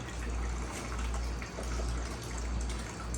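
Steady running water trickles and rushes from toilet plumbing after the tank has been emptied, a continuous close wash of flow with a low rumble underneath, no voices.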